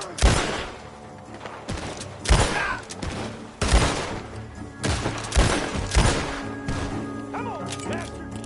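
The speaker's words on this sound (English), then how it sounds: "The gunshot." Gunfire in Red Dead Redemption 2, a fusillade of loud, sharp shots and crashes bursting in clusters over a shootout scene, with voices shouting between the blasts.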